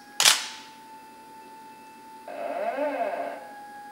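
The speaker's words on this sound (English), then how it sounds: "It pauses for 1 second, takes a picture, waits for 2 seconds." A camera fired by a 360 photography control box takes a picture with one sharp shutter click, followed by a steady faint hum and, after a pause, a brief whirring motor sound.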